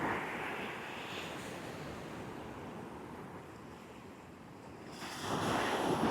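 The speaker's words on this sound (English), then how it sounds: "How big are those waves? Probably 10 feet out there on the reef." Big ocean waves, around ten feet, break on a reef off Camp Bay beach in the Caribbean during high wind, a steady broad roar with gusty wind buffeting the microphone and a surge swelling near the end.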